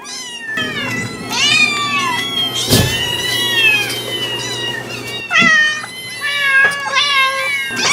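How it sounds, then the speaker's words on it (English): Several cats shriek and meow in loud, drawn-out, overlapping wails, rising and falling close by across the whole stretch with brief pauses and a sharp bang partway through. "the deafening shrieks of their cats"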